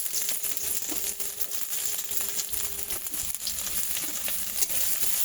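Sliced onion hitting hot oil for chow mein, a loud, dense, continuous sizzle close up with faint crinkling and scraping throughout.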